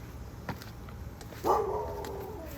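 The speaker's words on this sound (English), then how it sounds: "Neighbor dog's being protective." A neighbor's dog barks protectively once, a single clear bark at middle distance that trails off, heard outdoors over low ambient noise.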